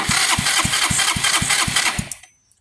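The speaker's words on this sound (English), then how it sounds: "we'll bypass this and just jump just to check that the starter motor's okay" A Yamaha Vino 125 scooter's starter motor cranks when jumped directly, giving a steady run of rhythmic whirring pulses, loud and close, for about two seconds before cutting off to silence.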